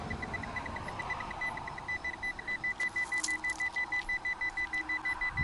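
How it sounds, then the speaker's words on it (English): A metal detector sweeping over iron pyrite rocks in a sulfide trench gives a steady series of short, evenly spaced electronic beeps that grow slightly louder and more rhythmic toward the end, with no talking. "That'll make the metal detector go off every time."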